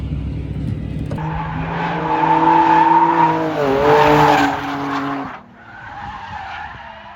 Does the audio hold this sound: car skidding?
yes